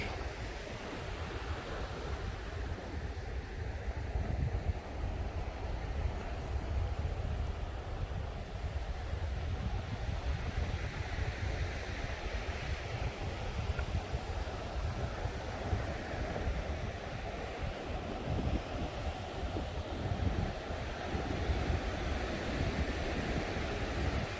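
Steady surf rolls and washes onto Pinky Beach in Khao Lak, Thailand, a continuous broad roar of breaking waves with some wind buffeting the microphone and no voices.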